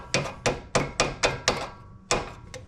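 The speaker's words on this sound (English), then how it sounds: "Pliers work good as a hammer sometimes." Pliers used as a hammer strike a metal pin on a Jeep Cherokee XJ in a series of seven sharp taps, six in a fairly even rhythm and a final pair after a pause, close and clear with no talking.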